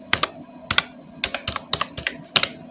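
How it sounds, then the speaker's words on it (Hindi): A computer keyboard is typed on close by in a quiet room, about a dozen crisp keystroke clicks in short uneven bursts, some keys pressed in quick pairs. "चलिए यहाँ पे टाइप करके देखते हैं।"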